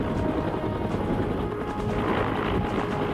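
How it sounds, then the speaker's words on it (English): An Air Force helicopter strains to lift a whale slung in a harness on a cable, producing a steady, loud rotor and engine roar that fills the whole stretch without any talking. "But even the helicopter strains from the weight."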